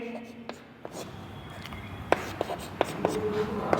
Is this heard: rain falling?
no